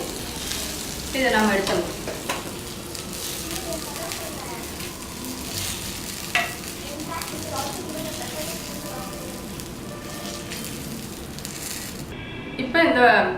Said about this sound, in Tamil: இப்போ இந்த ஃபிஷ் ஃப்ரை ரெடி ஆகிடுச்சு.